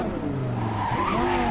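Car in Cyberpunk 2077 driven hard, a loud engine drone under a rising tire squeal as it skids, brief and close, no talk.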